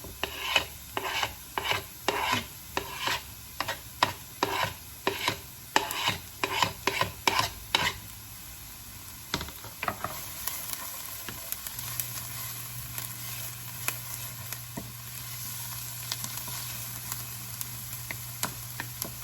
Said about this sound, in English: And now we're going to add in our garlic.